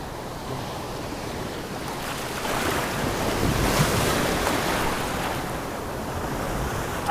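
Ocean surf breaking on a Texas coastline during fly fishing, a loud continuous wash of waves swelling in the middle, mixed with gusty wind buffeting the microphone, with no voices.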